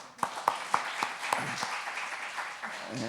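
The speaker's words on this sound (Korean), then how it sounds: "다 같이 박수." A church congregation at a Sunday service claps in slow unison, five or six sharp, evenly spaced claps that fade into scattered softer ones, with a murmuring voice underneath toward the end.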